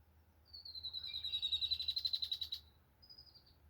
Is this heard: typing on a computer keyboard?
no